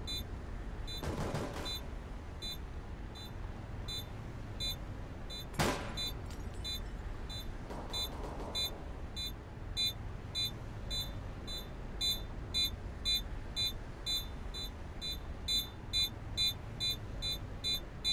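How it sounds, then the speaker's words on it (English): A planted bomb in the video game CS:GO beeps steadily, short bright tones repeating at an even pace and growing denser toward the end, over quiet background hiss with a few brief bangs early on. "Bomb has been planted."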